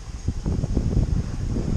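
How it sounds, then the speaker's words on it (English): Gusty wind buffets the microphone in low, rumbling surges during an outdoor hop harvest, with a faint steady hiss above. "It's windy out here again today"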